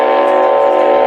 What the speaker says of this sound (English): as the train rolls through Salisbury into left field